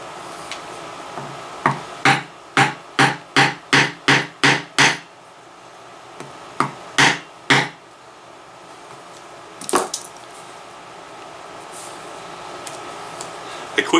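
A craft tool maul strikes a leather punch while a holster is being made. About a dozen sharp, evenly spaced knocks come in a quick series, then two more, followed by quieter handling noises.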